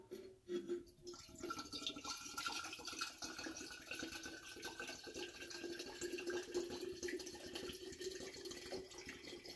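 White dog whisky pours out of an oak barrel with a large lid, a continuous splashing, trickling stream running steadily for several seconds, close and fairly loud with no voices.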